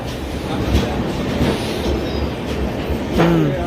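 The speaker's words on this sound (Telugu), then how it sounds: "భువనేశ్వర్ నుంచి ముంబై వెళ్ళే కోణార్క్ ఎక్స్ప్రెస్" A Konark Express from Bhubaneswar to Mumbai, hauled by a WAP-7 electric locomotive, pulls into a station platform: a steady, close rumble and clatter of wheels and carriages, with a brief high squeal near the end.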